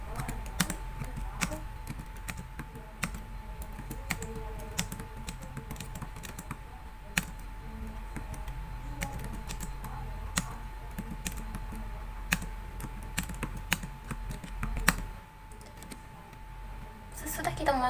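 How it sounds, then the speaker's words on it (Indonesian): Steady typing on a computer keyboard, with rapid close key clicks continuing throughout under a quiet hum while a person talks. "Selanjutnya ketik apapun untuk melanjutkan."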